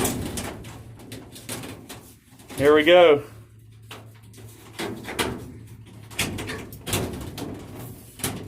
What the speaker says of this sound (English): Let's go ahead and close the door, and I'll let you see what it's going to feel like when the door's closed.